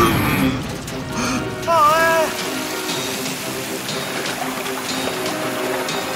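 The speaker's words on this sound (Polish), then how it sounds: "O nie, teraz pękła rura z wodą!" Steady rushing, splashing water gushes from a burst pipe in a children's cartoon, filling the whole clip, with a short squeaky creak partway through and a brief voice-like sound early on.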